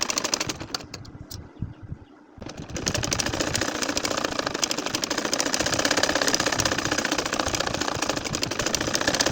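A sewing machine stitches a circular nakshi kantha pattern on a quilt, its steady mechanical whirr running loud and continuous after a brief pause near the start, with no voices.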